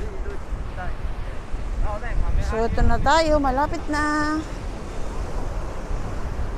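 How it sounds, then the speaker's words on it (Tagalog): Strong sea waves crash and surge near a ship run aground in a Taiwan typhoon, a loud continuous roar mixed with heavy wind buffeting the microphone while a person speaks briefly over it. "Nakakatakot yung dagat, napakalakas ng alon."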